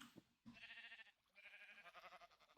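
Minecraft sheep bleat in a few short wavering calls, quiet and fairly close, separated by brief silences, with nobody talking.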